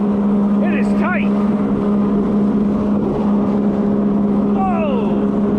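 A stock 2025 Yamaha JetBlaster Pro personal watercraft runs at top speed on cold water, its engine a loud, steady, droning whine right up close, with brief excited vocal whoops over it.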